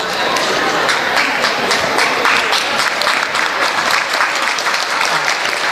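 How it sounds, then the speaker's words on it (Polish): Audience applause at a carol and pastoral song concert in Ropczyce, steady dense clapping from a large crowd that stays loud and even for the whole stretch, with no voices heard over it. "brawa na odwagę by mi się przydały"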